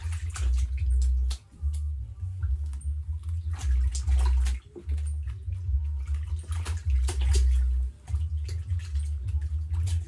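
Water sloshes and splashes in a bathtub as a baby is bathed, with loud low swishing surges and scattered drips and trickles, close and continuous without talk.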